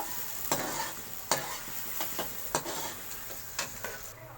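Onions sizzle quietly in oil in a pan while browning and a spoon scrapes and stirs, giving irregular sharp clinks over a steady soft frying hiss.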